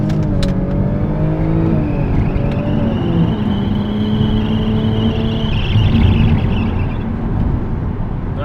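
A Toyota Crown hybrid with a V6 accelerates hard, its engine drone climbing in pitch through several gear changes. It is a loud, steady, close-up roar with no talking.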